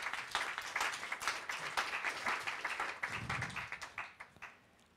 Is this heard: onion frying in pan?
no